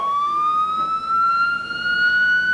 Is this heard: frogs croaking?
no